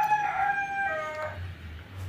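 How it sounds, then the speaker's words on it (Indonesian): A rooster crows beneath the stands of a football stadium, one drawn-out call rising and falling, then fading into a low steady hum with no other voices nearby. "mohon maaf ini buat teman-teman yang salpok pada suara ayam ya"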